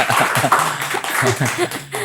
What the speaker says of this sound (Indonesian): boleh tepuk tangan dulu dong buat Endah